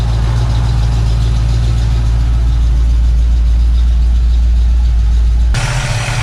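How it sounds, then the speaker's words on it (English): A car engine idling loudly during repair work on a Ford Fairmont, a steady deep rumble close up, cutting off abruptly near the end into a brief burst of brighter noise. "This engine is exceptionally loud"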